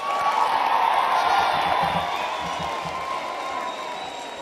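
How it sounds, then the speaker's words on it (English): Graduation ceremony audience applauding the choir, a loud, steady roar of many people clapping with some cheering and whoops mixed in, sustained throughout and slowly easing. "Can we give the choir a big round of applause?"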